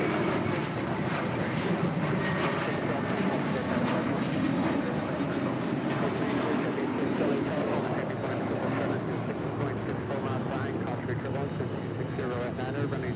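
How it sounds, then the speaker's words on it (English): An American Airlines Airbus A321 departs LAX for Orlando, its engines giving a steady broadband roar that stays level and fairly close throughout, with no distinct talking. "That is American 612 departing to Orlando on an A321."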